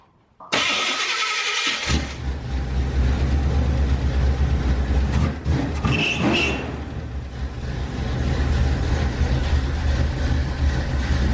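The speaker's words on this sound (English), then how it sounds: "we can just fire it up and it runs and idles great" An old street truck's engine cranks briefly, catches and fires up, then settles into a loud, steady, rumbling idle that runs on for several seconds, close by.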